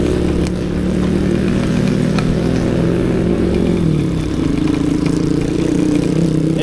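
A group of about fifteen motorcycles heading out together, engines idling and revving in a loud, continuous overlapping drone, with rising throttle pulls partway through.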